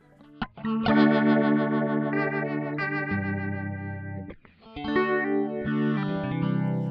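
Electric guitar played through a rotary speaker style Rotator effect in Native Instruments Guitar Rig software, sustained swirling chords with a warbling, chorus-like shimmer, loud and steady with brief pauses, no talk.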